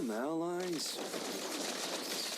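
Xavier firing a shot in Mobile Legends: a rising, warbling tonal charge-up that breaks into a sustained, hissing energy blast, steady and fairly loud to the end.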